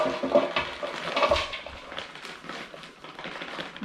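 A gardening product is poured into a container for growing salad plants, giving a splashy, trickling pour with small clatters that comes and goes in uneven bursts, close and moderately loud, with no talking.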